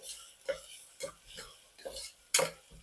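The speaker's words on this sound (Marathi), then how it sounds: "एक छोटा टोमॅटो ऍड करायचा आहे आणि तो पण आपल्याला छान परतून घ्यायचा आहे" A small tomato being sautéed with ginger and garlic in a pan over low flame, with repeated scraping strokes of a spoon against the pan about every half second over a faint sizzle.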